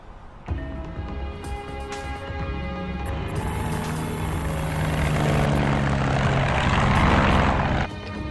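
A propeller airplane engine runs steadily and loudly, starting abruptly and building into a sustained drone with a rising whine before easing near the end, with no voices over it.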